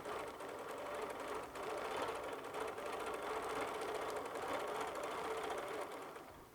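Bernina Q20 longarm quilting machine stitching at a steady, continuous whir with a fine rhythmic needle patter, close and moderately loud, running alone without voices.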